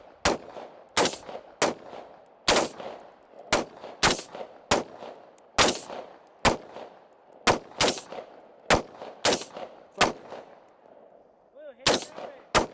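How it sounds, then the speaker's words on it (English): A very short-barreled AR-15 rifle fires at an outdoor shooting range: more than a dozen sharp, loud cracks come in an irregular series, each with a brief ringing tail. "Shooters, ready, fire."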